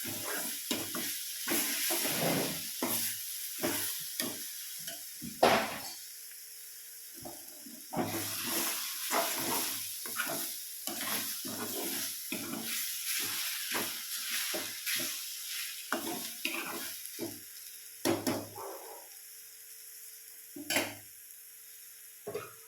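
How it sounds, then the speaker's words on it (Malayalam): Drumstick and egg thoran is stirred in a pan, with repeated bursts of scraping and clatter separated by quieter gaps over a low sizzle, a couple of sharper knocks standing out and no voices. "നമുക്ക് നല്ലപോലെ ഇളക്കിയിട്ട് അടച്ചു വെച്ചൊന്ന് വേവിക്കാം"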